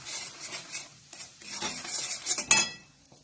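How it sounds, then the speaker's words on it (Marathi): Fine semolina poured into hot ghee in a pan and stirred over medium heat, with scraping spoon strokes, clinks of utensil against metal and a faint sizzle, uneven and close, with no talking. "आता गॅस मीडियम करायचा आणि त्याच्यामध्ये हा रवा घालायचा"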